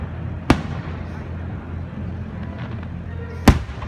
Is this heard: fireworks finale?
yes